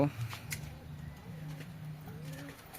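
Pigeons cooing softly in a low, steady murmur, nearby but not loud, with occasional faint rustles and clicks.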